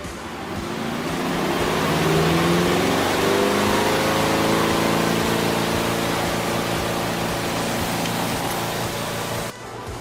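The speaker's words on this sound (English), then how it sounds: "While the spin cycle is going" A washing machine on its spin cycle set to drain, a loud, steady whooshing whir that rises in pitch as the drum speeds up, holding strong before cutting off near the end.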